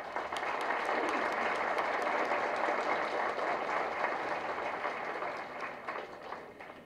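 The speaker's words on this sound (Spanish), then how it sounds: "para quien pido un fuerte aplauso" Sustained, dense applause from a seated audience at a formal legal lecture on direct amparo in the accusatory criminal justice system, welcoming Dr. María Elena Leguízamo Ferrer. The clapping stays steady and full throughout, easing slightly at the end.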